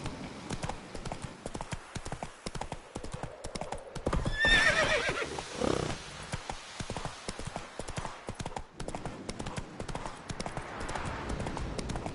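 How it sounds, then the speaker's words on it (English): Horse hooves clip-clop steadily in The Witcher 3 game, with a loud neigh rising mid-sequence before the rhythmic hoofbeats carry on alone. "That's his horse."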